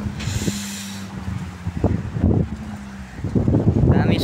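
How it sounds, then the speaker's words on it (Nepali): Wind buffeting the microphone outdoors near a tower plaza in Qatar, coming in gusty, rumbling bursts, close and loud, with a steady tone running underneath. "हावा लाग्यो"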